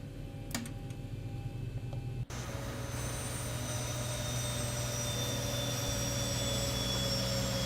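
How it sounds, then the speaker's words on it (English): Boeing 737 engines in a flight simulator spooling down after an abrupt cut, a loud steady turbine roar with high whining tones that slowly glide downward, no talk. "And we'll disconnect, shut down the engines."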